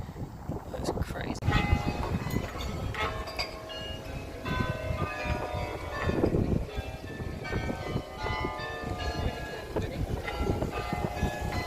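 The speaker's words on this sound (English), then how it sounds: "European churches always have much better chimes than ours do" Church bells in Europe ring out in a run of repeated, resonant chimes that sound somewhat distant and slightly out of tune, over outdoor background noise and intermittent talking.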